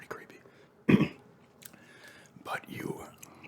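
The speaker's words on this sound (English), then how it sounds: "Sorry, I had to clear my throat there." A person clears their throat once, a short, sharp, close burst, followed by quieter mouth and chewing noises and a second softer throat sound in an intimate, close-miked setting.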